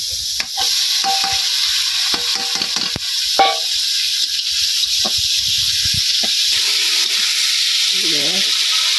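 Pumpkin sizzles while being stirred into spiced masala in a pan, a steady frying hiss with scraping and clinking from the spoon, as someone talks intermittently over it.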